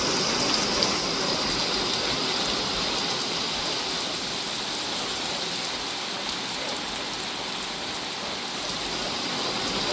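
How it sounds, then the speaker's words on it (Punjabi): Heavy monsoon rain pours down steadily, a dense, even hiss of falling water that stays constant and fairly loud for the whole stretch. "ਕਿਸ ਤਰ੍ਹਾਂ ਭਾਰੀ ਬਰਸਾਤ ਭਾਰੀ ਮਾਨਸੂਨ ਮੂਸਾਤਰ بارش ਹੋ ਰਹੀ ਹੈ"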